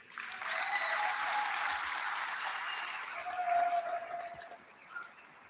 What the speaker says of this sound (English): I would like to ask for one more round of applause for our winners and sponsors